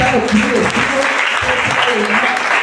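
A church congregation claps together during a worship service, a sustained wash of applause with voices calling out over it throughout.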